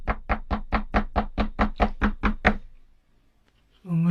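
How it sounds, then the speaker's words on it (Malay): About eleven firm, evenly spaced knocks on a door sound loud and close, followed by near silence. A person's voice begins right at the end. "Malam yang pertama, Casey, saya mimpi ada orang datang ketuk pintu rumah."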